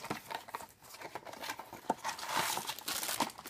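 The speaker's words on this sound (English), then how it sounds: "crushing the box right now, and I don't like doing that" Cardboard Funko Mystery Mini box being crushed by hand, a close, quiet run of crinkling and crunching with sharper cracks scattered throughout, no talk.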